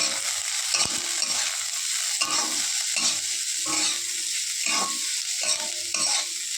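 Chopped onion and green chilli being stirred in a pan, repeated scraping strokes over a steady sizzle, close and clear, roughly one stroke every half second to second, no one speaking.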